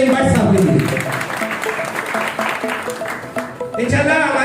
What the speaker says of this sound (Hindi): आप तालियों से इस्तकबाल कर दीजिए नईम भट्ट साहब के लिए।